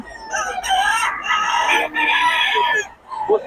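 A young gamecock stag crows loudly and close by at a rainy market in Bocaue, one long drawn-out crow with a brief cluck at the end.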